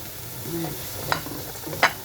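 Carrots and vegetables for chop suey sautéing in a hot pan, a steady sizzle with a couple of sharp scraping stirs of a spatula, close by, with faint voice-like tones underneath.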